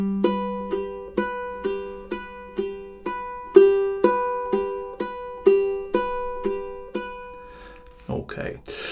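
Fingerpicked ukulele plays an intro, a steady run of clear, evenly spaced plucked eighth notes with ringing overtones, close and alone, ending in a brief noisy rustle.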